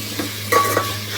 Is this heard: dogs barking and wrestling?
no